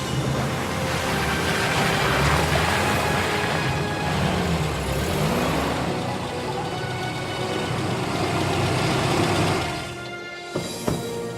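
An ethanol-powered motor vehicle with a modified electrical system runs steadily at close range for about ten seconds, its broad engine rumble holding fairly even before cutting off near the end, leaving a few faint knocks in quiet.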